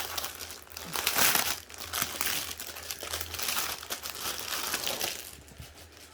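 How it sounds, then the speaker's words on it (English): A crinkly plastic bag holding replacement kits is opened and handled nearby, with continuous crackling and rustling that swells and fades over several seconds, with no talk. "Right then, crinkly bag time."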